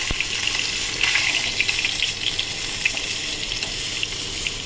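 Eggplant and black nigella seeds hit hot oil in a pan where fish was just fried, a constant bright sizzle with small crackling pops running throughout and no voices.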